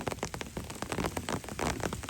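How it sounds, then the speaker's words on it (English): Heavy rain patters steadily and densely onto an umbrella overhead and the surrounding hiking trail at Fort Clinch State Park on Amelia Island, Florida, close and continuous, with thunder earlier in the storm. "The rain is coming."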